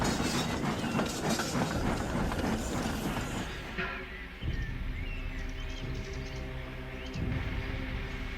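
A train rumbles along the rails with rhythmic clickety-clack, steady and fairly loud, the tone shifting midway as it rolls on.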